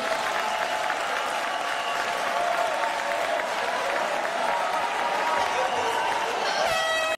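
Crowd at a political meeting in Washington DC applauds steadily, a continuous roar of clapping hands with a faint voice or tonal sound threaded underneath.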